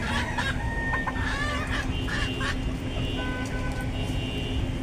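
Backyard chickens let out of their coop in the morning cluck and chatter continuously, several birds close by over a constant loud background rumble, with a rooster crowing faintly.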